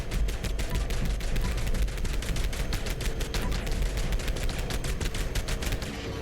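A pepper shaker gun in a video game firing at an enemy's shield, a rapid continuous burst of shots, loud and close, with steady rhythm throughout.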